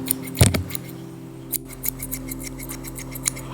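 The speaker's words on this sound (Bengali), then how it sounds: "একটা কাঁচির সাউন্ড কাঁচির সাউন্ডটা আমরা কিন্তু খুব লাইক করি" A single sharp metallic snip near the start, followed by faint light clicks and ticks over a steady low hum.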